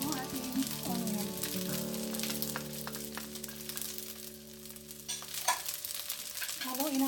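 Fresh garlic and onion crackle and sizzle in a pan while being stirred, a close, soft frying hiss with intermittent scraping strokes and a brief clatter near the end.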